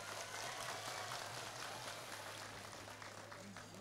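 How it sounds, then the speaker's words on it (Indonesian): At an Indonesian religious gathering and halal bihalal event, an audience claps for the regent, a faint, distant spread of applause that holds steady and tapers slightly over a low hum. "tepuk tangan untuk Mas Bupati."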